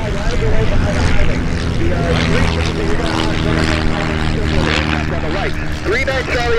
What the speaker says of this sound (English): The 39 Charlie on the left, clear for takeoff.